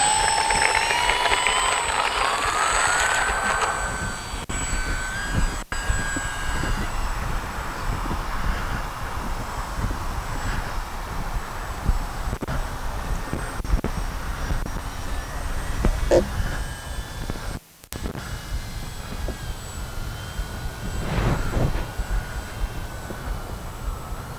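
A Durafly Ugly Stick V2 RC airplane's electric motor runs steadily throughout, a continuous high whine over broadband wind-like noise, loud near the start and carrying on as the model flies, with one brief dropout near the end.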